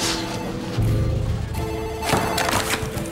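A telephone rings repeatedly in an office, its bell tones coming in bursts over a busy layer of background music.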